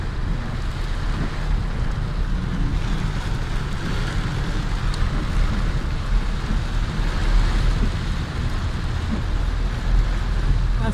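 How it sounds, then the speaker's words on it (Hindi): Heavy rainstorm in Jazan, Saudi Arabia, heard from inside a car, a constant deep roar of rain and rumbling low noise against the vehicle, steady and loud with no speech. "সৌদি আরবে আজকে বহুত বারিশ হইতেছে"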